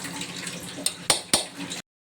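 Water poured into a cooking pot while making mutton intestine gravy, a brief wet splashing stream with a few sharp clinks, heard close up before stopping abruptly.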